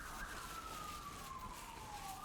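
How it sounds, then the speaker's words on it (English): A police siren wails outside in a steady, slowly falling tone, faint and distant beneath low background noise. "Ignore the police chase."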